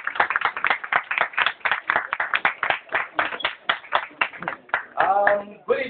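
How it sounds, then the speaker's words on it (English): Audience clapping for Nigerian album sleeve illustrator Ghariokwu Lemi as he is welcomed to the stage: dense, steady hand claps from a fairly close crowd, lasting about five seconds before tapering off. "everybody with a round of applause, welcome Ghariokwu Lemi."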